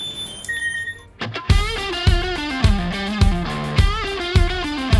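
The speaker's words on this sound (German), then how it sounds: "Feuerwehr, Alarm." A fire alarm goes off while a FIFA 23 goalkeeper career mode is being played and recorded, sounding as a loud, distorted electronic tone that repeats in steady pulses, each lasting about half a second.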